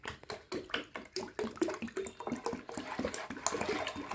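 Water splashes and gurgles as it is poured into a plastic bottle to fill it toward 5 liters, a close, steady run of sloshing and bubbling that goes on the whole time.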